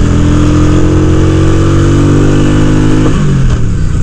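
A Honda Shadow ACE motorcycle engine revs hard and high, a loud, steady, close-up roar that climbs in pitch, then drops off sharply near the end as the throttle is released.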